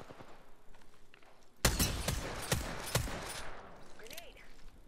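Several sharp, loud charge rifle shots ring out in Apex Legends, a burst of cracks spaced about half a second apart over quieter game ambience.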